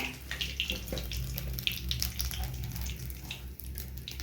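Nigella seeds dropped into hot oil for tempering, while a pomfret jhal is being made, give a steady close-up hiss and sizzle that runs evenly throughout with no talking.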